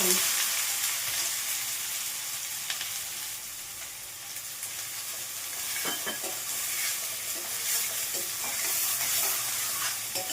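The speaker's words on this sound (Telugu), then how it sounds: "ఫోర్ టేబుల్స్ ఆయిల్ వేసాము ఇది వేడయ్యాక ఉల్లిపాయలు వేసేయాలి" Onions frying in four tablespoons of hot oil for a chicken curry, a steady close sizzle and hiss with occasional stirring scrapes.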